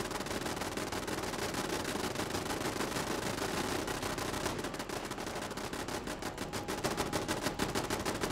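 Turret gunfire in a video game sounds as dense, continuous rapid bursts, a harsh crackling stream of shots filling the whole clip at a steady, close level with no talking.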